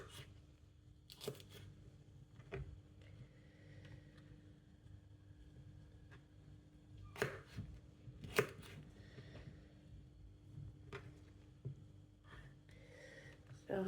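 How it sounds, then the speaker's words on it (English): Knife chopping ingredients for a homemade sausage casserole on a kitchen board, with scattered irregular cuts and taps over a low background hum, fairly quiet and close. "So I'm just finishing chopping it up"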